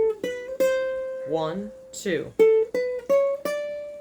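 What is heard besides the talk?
ukulele playing the Addams Family riff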